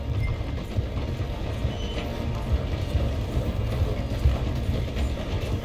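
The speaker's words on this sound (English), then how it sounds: "The train is slowing down to go through the station." A train slowing to pass through a station in the video game Red Dead Redemption 2, giving a steady, close mechanical rumble of wheels and rattling carriages with faint clanks throughout, no voices.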